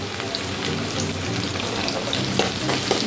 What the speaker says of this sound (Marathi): लगेच आपण यात हा कढीपत्ता पण टाकूया